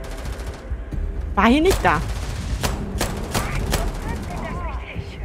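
Gunfire from the video game Starfield: several sharp, evenly spaced shots crack out in the second half, with game effects and someone talking over the first part.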